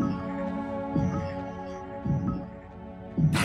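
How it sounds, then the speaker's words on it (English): A slow heartbeat thuds from inside a boulder, three or four low, evenly spaced beats under a sustained harmonic musical drone. "That's a heartbeat. Something's alive inside that boulder."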